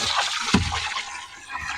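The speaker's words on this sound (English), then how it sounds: "Now I'm going to go on and start putting some water in here." Filtered water running from a hose into a mixing barrel, a steady close-up gushing and splashing that carries on without a break.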